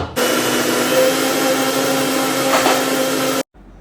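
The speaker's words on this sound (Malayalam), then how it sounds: "തേങ്ങ നമുക്ക് മിക്സിയിലൊന്ന് അരച്ചിട്ട് വരാം." A mixer grinder grinds coconut with a loud, steady motor whine and rough churning that starts abruptly, runs continuously at close range and cuts off sharply near the end.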